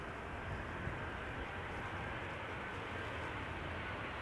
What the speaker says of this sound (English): This is Sunwings Airlines, flying for TUI, arriving from Orbit.